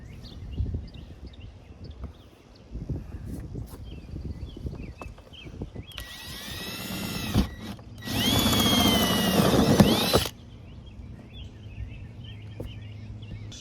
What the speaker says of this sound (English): we're ready to drill our major hole through there now